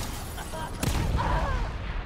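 A single sharp gunshot in The Evil Within, fairly close with a short reverberant tail, breaking through a muffled game backdrop.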